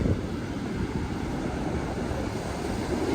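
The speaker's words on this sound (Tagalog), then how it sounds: "Malakas ang alon." Rough sea surf rushes and breaks continuously close by, mixed with strong wind buffeting the microphone, a dense low roar throughout the short stretch.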